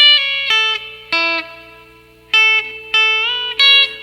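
A country-style electric guitar lick with string bends rings out close and clear, in a run of plucked notes and short phrases with sustained, bending tones between them and no voices over it.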